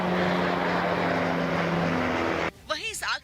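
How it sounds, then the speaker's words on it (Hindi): Firefighting helicopters drop water on a wildfire near Athens, and a steady, loud rotor and engine drone fills most of the clip before it cuts off abruptly. A voice follows briefly. "इस काम में जुटे कई हेलीकॉप्टर आसमान से आग पर पानी की बौछार करते दिखाई दिए।"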